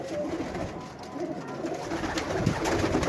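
A female pigeon coos softly nearby, low repeated calls over a noisy, rustling background.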